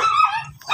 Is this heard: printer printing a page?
no